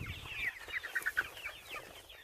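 Several chickens cluck and squawk in a quick, busy chorus, fairly close, with soft rustling and movement underneath.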